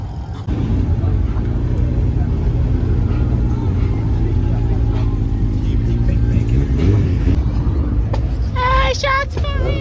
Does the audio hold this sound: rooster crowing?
no